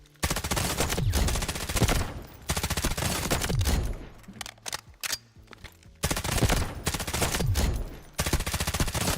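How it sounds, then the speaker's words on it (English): Automatic rifle fire in the Delta Force video game's training room comes in long, loud, rapid bursts with short pauses between them, close and punchy throughout. "I want to fire in the training room just so I fired it, because it's a nice gun to fire."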